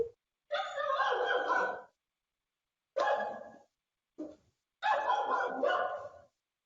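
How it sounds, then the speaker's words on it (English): A dog barks and yowls in four separate bursts, some long and drawn out and others short, sounding close and fairly loud, with silence between them. "The dog wants to say happy birthday to Rinpoche."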